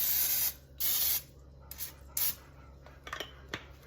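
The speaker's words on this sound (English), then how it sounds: "I'm going to spray the top of this rice dressing with a little more nonstick cooking spray." Short hissing bursts of an aerosol spray, two longer blasts then a few briefer puffs, close and fairly loud.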